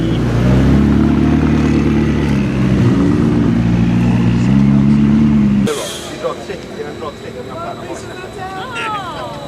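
A Koenigsegg Agera supercar pulls away in race mode at a car week gathering, a loud close engine drone with shifting revs that cuts off abruptly and gives way to quieter crowd noise and talk.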